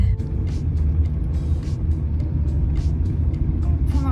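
Car engine rumbling steadily at close range from inside a car while a learner drives, low continuous drone with faint voices in the background.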